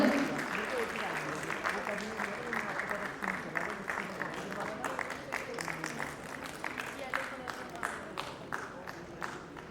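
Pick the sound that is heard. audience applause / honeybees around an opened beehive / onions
audience applause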